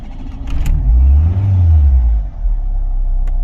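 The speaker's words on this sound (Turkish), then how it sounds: "Şu yan taraftaki ışık da şöyle arabayı çalıştırarak göstereyim" A car engine is started and settles into a loud, steady low rumble close by, swelling briefly as it catches before idling on, with a couple of faint clicks and no talk.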